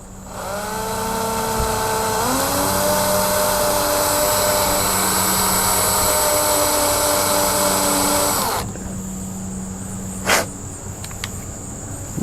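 A power drill bores a hole in the back of a Taylorcraft airplane part, a loud continuous whine with a pitch shift early on, running about eight seconds before stopping, followed by brief clicks.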